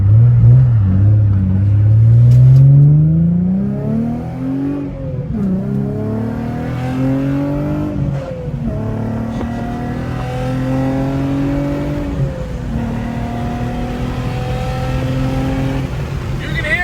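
An Infiniti G35 fitted with a Kinetics intake and plenum revs up close, its loud intake growl rising, dipping and climbing again in repeated sweeps that dominate the clip.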